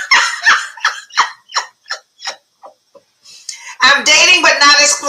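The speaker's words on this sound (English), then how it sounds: "Whoa, doggy." A dog gives a run of short, high yips and barks, spaced at an irregular pace and fading slightly, before people begin talking loudly over it.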